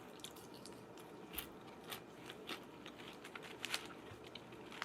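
Crunchy sugar-coated puffed rice being chewed close up, a quiet series of irregular crisp bites and crunches with no talking.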